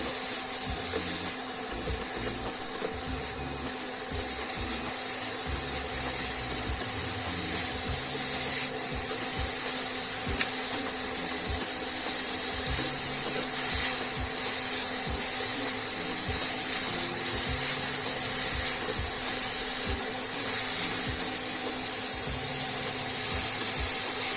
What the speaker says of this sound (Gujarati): આ રીતના આપણે હલાવી રાખવાનું છે